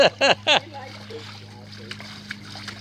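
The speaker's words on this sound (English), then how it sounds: "I can get him with a full splash." Three quick water splashes up close in a pool, followed by softer sloshing and lapping with a steady low hum underneath.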